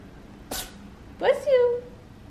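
A kitten's owner sneezes once, sharply, followed a moment later by a short voiced exclamation, in a quiet room.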